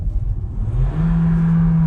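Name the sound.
MG Hector Plus engine noise while accelerating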